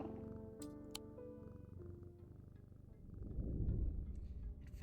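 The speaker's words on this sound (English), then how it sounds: "We pet the kitty." A cat purrs as it is petted in a video game, a soft low rumbling purr rising near the end beneath quiet game music and tones, no talking.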